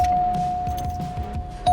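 Cadillac cabin chime during a test drive, a steady thin electronic tone sustained throughout, with soft low thumping and faint clicks underneath.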